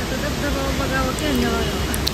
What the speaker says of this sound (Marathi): इथे धबधबा होता